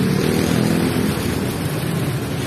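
Engine noise of motorcycles in holiday-week street traffic in the Philippines, a loud close rumble swelling and easing as vehicles pass, with no talking.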